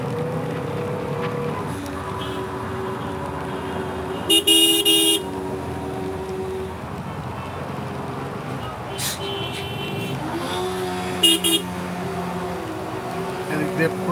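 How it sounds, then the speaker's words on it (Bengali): Street traffic jam along a flooded road ridden through on a CFmoto 300SR motorcycle, with steady engine and road noise and a few sharp car horn toots breaking through, one long blast near the middle and another later, while a voice talks faintly. "দেখছেন এই জায়গা দিয়ে কতটা জ্যাম"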